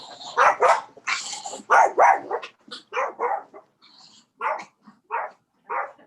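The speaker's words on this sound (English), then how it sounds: "Who let the dogs out, Jerry?" A dog barks in a string of sharp, loud barks, several close together at the start and then spaced, separate barks, near and clear over a quiet room during a city commission meeting.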